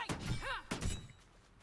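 A locked chest being attacked and broken in Baldur's Gate 3: two heavy whacking impacts with shattering wood debris, close and loud, with a brief groaning vocal sound between them.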